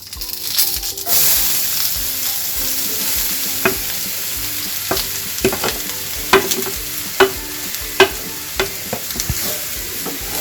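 A pan sizzles steadily as grated carrots fry for carrot halwa, with a series of sharp scraping knocks from a spatula stirring at irregular intervals.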